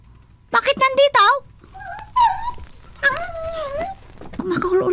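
Several dogs whimper, whine and yip in broken, rising bursts, fairly close, with short pauses between outbursts and a person's voice mixed in.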